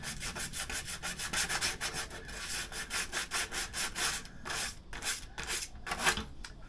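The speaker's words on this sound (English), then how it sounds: "Keying means just scratching it up so that the filler has something to latch onto" Rhythmic rasping strokes of abrasive scuffing scooter plastic to key it for filler, a steady back-and-forth scratch repeating close up for several seconds with no voices.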